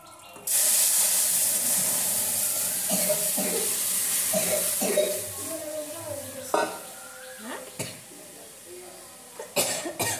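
Panch phoron, dried red chillies and bay leaves hit hot oil in a pan with a loud, steady sizzle that carries on throughout, broken by stirring clinks and a few coughs.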